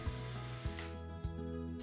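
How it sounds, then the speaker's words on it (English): Power drill pre-drilling screw holes for inside-mount wood or faux wood blind brackets, a steady faint whir broken by three brief bursts as the bit catches, heard alone at low level. "Pre-drill the holes"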